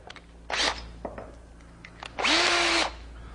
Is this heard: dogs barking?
no